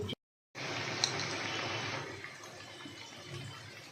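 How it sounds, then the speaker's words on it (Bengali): Water is poured into a pan of pomfret fish curry, a steady broadband splash lasting several seconds after a brief silent gap, gradually thinning as the pour tapers off. "আর একটু জল দিয়ে দিই সেদ্ধ"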